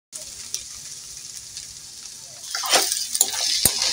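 Ivy gourd pieces cook in a covered pan on low heat in a village kitchen, a soft continuous sizzle that swells near the end with a few louder bursts and clinks.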